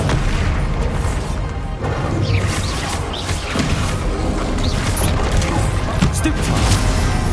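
The Bombarda spell's explosions boom and crash repeatedly in Hogwarts Legacy combat, dense and loud, layered with battle effects and voices throughout.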